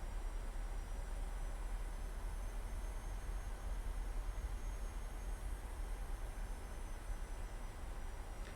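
Boeing 737-800 jet engines spool up for takeoff in Microsoft Flight Simulator, a steady, dense broadband roar that holds constant and loud throughout with no voices over it.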